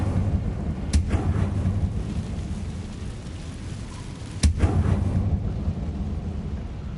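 A fire spell is cast in the Hogwarts Legacy video game, a low roaring rumble with two sharp bursts, the second near the middle and louder, over a constant dark ambient bed.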